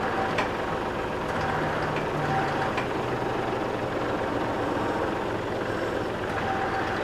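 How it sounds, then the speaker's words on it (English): Tractor running with its transmission low on oil, giving a steady idling engine drone with a low mechanical rumble and faint scattered clicks and whine, continuous and moderately near, with no talking. "It sounds like it's just no oil in the transmission."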